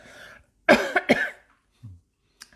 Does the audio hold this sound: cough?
yes